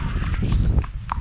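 Hooves of a ridden horse clip-clop on a hack out, a quick run of close, hollow footfalls in steady rhythm with no talk over them.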